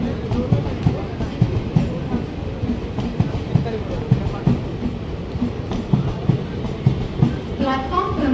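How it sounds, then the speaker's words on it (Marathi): A Latur-bound train pulls into a station platform with a steady rolling rumble and rhythmic wheel clatter, while crowd voices murmur faintly underneath. "लातूर गाडी आली बघा."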